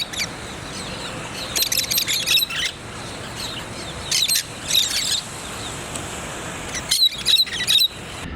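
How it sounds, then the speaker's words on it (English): Small birds chirp in short bright bursts outside an apartment in São Vicente, several clusters spread across the clip over a steady low background hiss, fairly close. "The little birds come up here."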